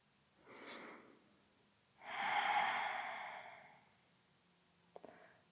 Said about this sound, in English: Release the count and allow your breath to flow naturally.